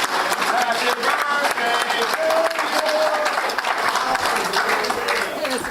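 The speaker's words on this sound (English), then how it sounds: "I'd like you all to join me in applauding Cindy Pickett and her committee." An audience at a Lions Club awards event applauds a committee, a dense, sustained wash of clapping with crowd voices and some talk mixed in.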